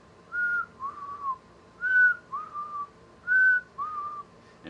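A repeated two-note whistle calls out in a haunted-house zombie forest attraction at a Halloween horror event, three clear rising-then-falling pairs spaced evenly, moderately loud over a low ambient hum with no talking.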